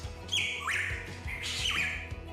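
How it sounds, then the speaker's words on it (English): A hooded pitohui calls twice, each a loud, close, harsh squawk with a rising whistled sweep, spaced about a second apart over quiet background. "let me introduce you to the hooded pitahui,"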